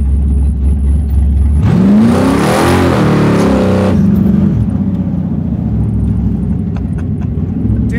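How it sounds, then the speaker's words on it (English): A 700 hp 1962 Chevy Bel Air bubble top restomod revs hard with its exhaust cutouts open, a loud, close, rising roar for about two seconds before settling back into a deep, steady idle rumble. "I don't know if you guys noticed the difference in sound just now, but that's cutouts open."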